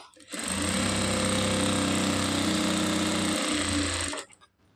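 Sewing machine stitching a long blouse, running steadily with a close mechanical whir and buzz for about four seconds before stopping, with no voices.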